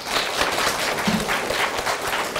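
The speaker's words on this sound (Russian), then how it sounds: "Ну, я думаю, будет аплодисменты." An audience applauding at a panel discussion on Russian media, a dense, fairly loud wash of many hands clapping at once that stays steady, with no speech over it.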